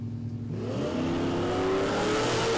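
Ford XD Falcon drag car launching down the strip at Sydney Dragway, its engine note climbing steadily in pitch as it accelerates hard and loud, without any talk over it.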